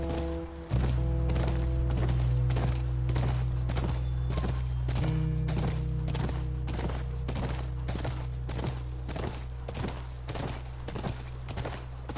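Horse hooves clip-clop at a steady walking rhythm in The Last of Us video game, each hoof strike distinct against a constant low hum, with no talking over them.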